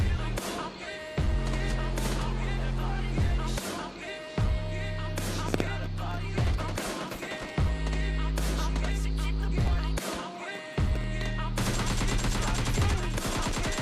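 Loud bursts of automatic gunfire from a squad firefight in PUBG Mobile Lite, with sustained rapid shots, heavy thumps and brief gaps between volleys, dense and close throughout.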